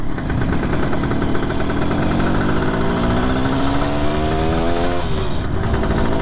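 A 1973 Kawasaki S2A 350 two-stroke triple motorcycle engine running close by, a loud, steady buzzing idle that rises slightly in pitch as it is revved gently toward the end.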